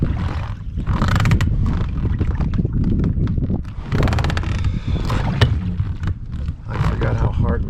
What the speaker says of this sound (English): I forgot how hard rowing is.